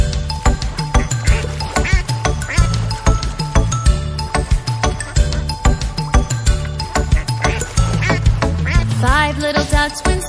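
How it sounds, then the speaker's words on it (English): Repeated cartoonish duck quacks ring out in a steady rhythm over a bright nursery-rhyme backing track about five little ducks, loud and upfront with clinking percussion. "Daddy duck said quack, quack, quack, quack"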